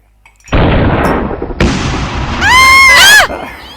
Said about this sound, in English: it's just a bomb, love. About 2 or 3 streets away, judging by the sound